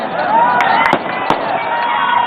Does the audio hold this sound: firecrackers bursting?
yes